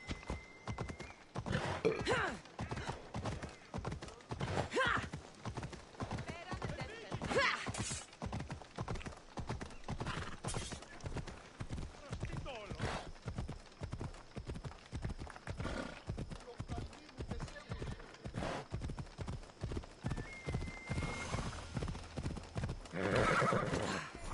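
A horse in the video game Assassin's Creed Odyssey gallops with steady, rapid hoofbeats for a long stretch, broken by several neighs and whinnies, while a voice talks intermittently over it.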